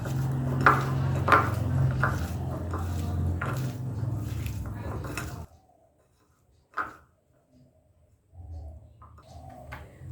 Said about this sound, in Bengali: এবার হাত দিয়ে ভালো করে মাখিয়ে নেবো